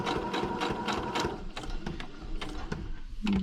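A sewing machine stitches along the edge of a paper tag, its needle clattering in a rapid, even mechanical rhythm close up, with a brief pause between runs.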